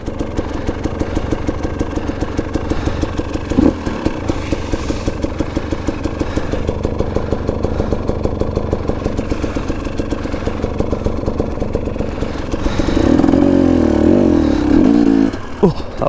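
A KTM 250 dirt bike runs through a deep muddy trail, its engine droning steadily and loud throughout, with a brief strain and a rise in revs near the end.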